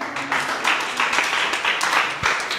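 Indoor audience at a spoken English confidence-building session clapping together in a steady, moderately loud patter of many hands lasting the whole stretch.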